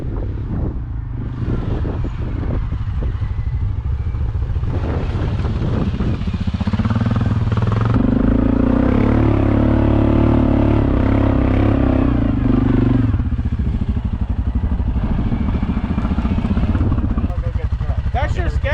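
An ATV descends a steep hill, its engine rumbling steadily with wind buffeting the microphone and bursts of clatter, while people talk nearby.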